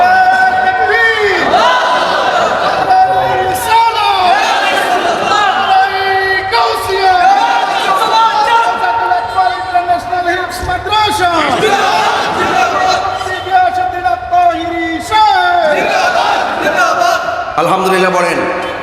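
Large crowd at a religious gathering for a madrasa roaring slogans in unison, loud rhythmic chanting in repeated waves led by a preacher's shouted calls, with each response swelling and falling over nearly twenty seconds.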